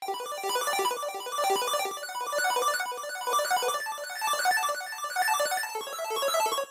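A rapid, bright synth arpeggio cycling quickly up and down in a steady chiptune-like pattern, continuous and busy throughout.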